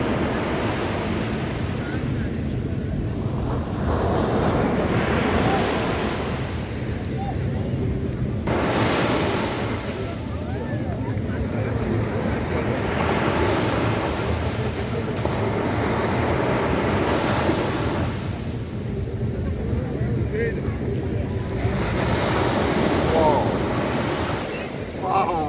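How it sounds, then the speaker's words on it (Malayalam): Ocean surf at Dubai Marina's JBR beach: waves roll in and break in broad, loud surges every several seconds, with steady wind buffeting the microphone throughout and no clear voices. "ഇവിടെ ടോപ്പ് തിരമാല"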